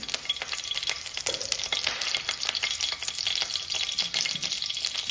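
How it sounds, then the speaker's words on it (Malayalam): Steady crackling and popping of mustard seeds sputtering in hot oil, dense rapid pops over a continuous sizzle, close up. "കടുക് പൊട്ടി വരട്ടെ"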